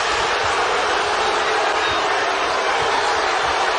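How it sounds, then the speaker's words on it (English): Crowd roar filling a college basketball arena during a physical Oregon State versus USC Pac-12 game after a missed shot draws no foul call, a dense, steady wash of voices holding loud throughout. "No foul call. Crowd wanted it."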